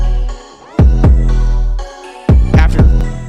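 An 808 bass in a trap beat, before EQ, plays loud, booming sustained notes with sliding pitch drops, hitting several times with gaps in between and no talking over it.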